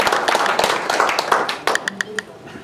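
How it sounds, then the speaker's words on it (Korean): An audience applauds at a church forum, the dense clapping thinning out into scattered individual claps, with faint voices underneath. "다시 한번 뜨거운 박수로 우리 감사해 주십시오"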